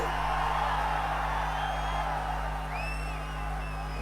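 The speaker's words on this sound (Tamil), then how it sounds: "குமராபாளையத்தில் நடைபெற்ற கூட்டத்தினுடைய ஆரவாரம் செவிய தொலைச்சுக்கிட்டு போகுது" A crowd at a political rally in Kumarapalayam roars steadily throughout, a dense wash of cheering with a few whistles rising near the end, heard over a constant low electrical hum.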